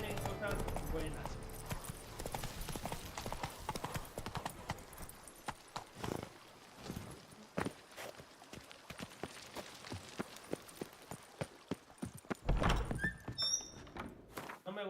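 A horse's hooves clop and gallop in The Witcher 3: Wild Hunt – Blood and Wine, the rhythmic thuds fading and returning with irregular strikes, close and fairly loud, with a voice talking over them.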